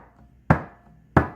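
Two sharp, dry close strokes on a mridanga drum struck with the fingertips, spaced about two-thirds of a second apart, each with a quick decay, heard alone.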